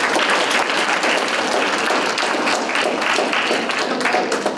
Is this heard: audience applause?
yes